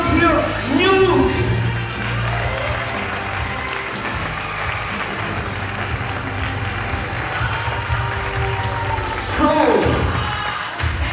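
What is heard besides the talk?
audience applause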